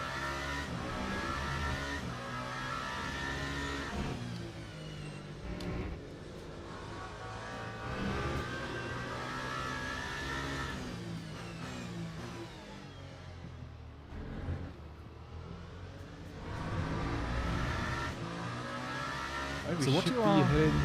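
GT3 race cars, including a Lamborghini, race at Bahrain in the Le Mans Ultimate sim game. Engines roar and rev steadily with gear changes and passing cars, and commentators talk over them throughout.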